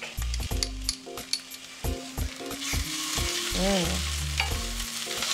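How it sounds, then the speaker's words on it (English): Ginger and garlic toasting in a hot pan give a steady, close sizzle with a few stirring scrapes and clinks throughout. "Now, just to make sure it gets a little bit toasted, I'm gonna add my garlic."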